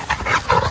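Dog panting close up with quick, breathy, rhythmic huffs over a brief moment.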